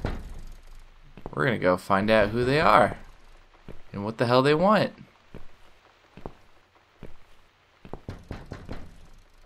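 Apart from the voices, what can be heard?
banging on door in video game The Cat Lady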